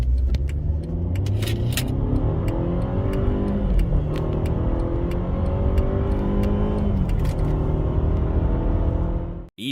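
Mercedes W212 E-Class petrol car accelerating hard from 0 to 100 km/h, engine rising in pitch through several gear changes with a loud, continuous roar from inside the cabin.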